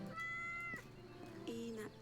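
A cat in the video game Yes, Your Grace meows when petted, two soft, drawn-out meows, the second lower and wavering, quiet and close against faint background hum.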